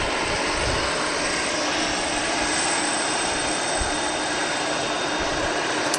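Aer Lingus Airbus A320 airliner in classic colours arriving, a steady broadband jet roar with low rumble, moderately distant and constant throughout, no talk.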